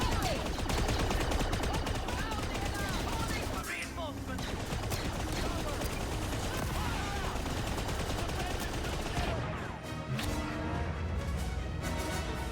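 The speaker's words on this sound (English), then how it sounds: "Here, let me go out and get shot." Dense, continuous gunfire from the Star Wars Outlaws video game, with rapid automatic bursts and overlapping shots that barely let up, mixed with game sounds and voices.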